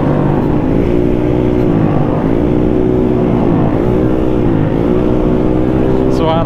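A Honda Beat scooter engine revving close by, its buzzy note rising and falling in repeated swells over a steady drone.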